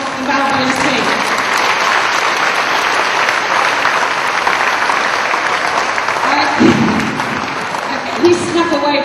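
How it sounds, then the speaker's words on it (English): Sustained applause from an audience at a World Down Syndrome Day event, steady and fairly loud throughout, filling the room for about nine seconds. "please give me a round of applause for Dr. WDSD."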